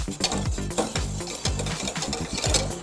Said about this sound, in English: I'm going to use the whisk to keep it moving around in the saucepan.